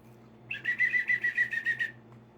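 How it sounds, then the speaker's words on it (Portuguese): A shrill whistle is blown in a rapid trilling burst of about a dozen pulses lasting over a second, loud and near against a quiet background. "esse apito me acompanha"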